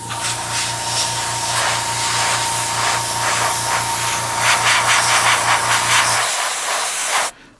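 An airbrush sprays paint onto a Sturmgeschütz III Ausf B model tank, making a steady loud hiss with a low motor hum beneath it that runs for about six seconds and then cuts off.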